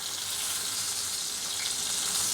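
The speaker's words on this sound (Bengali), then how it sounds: "এখন বেগুনগুলোকে আমি একটু ঘুরিয়ে দিচ্ছি, ঘুরিয়ে অপর পাশটাও খুব ভালোভাবে ভেজে নিচ্ছি।" Eggplant slices frying in oil in a pan for a Bengali dish, a loud, even, continuous sizzle held close throughout, no voices.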